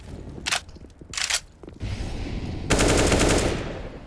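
Gunfire from pistols in a Counter-Strike match on the Nuke map, heard as short bursts of sharp shots followed by a sustained louder volley of rapid firing over game ambience.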